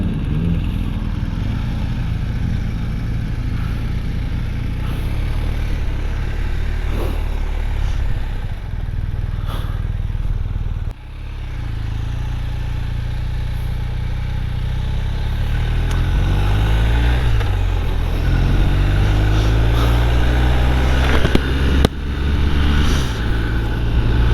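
Steady engine drone of a 2022 BMW R1250R motorcycle on the road, loud and continuous with shifting low rumble and wind, a brief dip near the middle, no talking.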